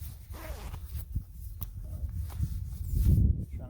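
A zipper on Happy suit bottoms is run down in a few quick, close rasping pulls, then fabric rustles and shifts.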